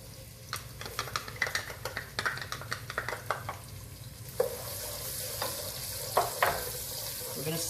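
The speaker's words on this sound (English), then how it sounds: "we're going to use its own grease to saute our red onions and garlic" Red onions and garlic sauté in bacon grease in a pan, with a rhythmic run of stirring scrapes and taps over a close, steady sizzle, then a few louder clatters as the sizzle carries on.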